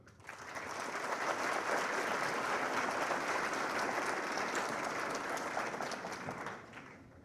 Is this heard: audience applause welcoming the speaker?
yes